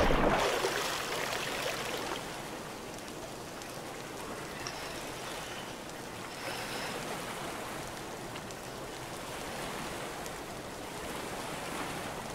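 Water in the video game Stormworks, a steady broadband rush of surf and splashing that holds at an even level throughout, with a louder burst at the start.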